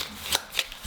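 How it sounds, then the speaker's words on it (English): Cards from the Lizard Wizard board game are shuffled in a quick, close burst of papery riffles and flicks, with two or three sharper snaps over under a second. "any creatures I discovered get shuffled back into the deck"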